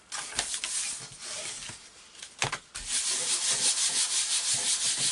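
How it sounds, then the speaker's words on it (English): Paper craft layers for a Christmas card are rubbed down firmly by hand so the adhesive holds, with a few short scratchy strokes and then a long steady rasping rub, close and clear. "Just giving that a nice rub down so that sticks nicely."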